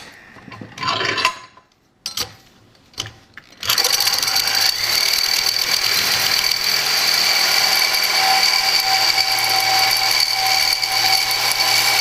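Reciprocating saw cutting through a tool-grade steel wrench: a few short bursts and starts, then a loud, continuous buzzing, grinding cut that holds steady to the end, close up and with no talk.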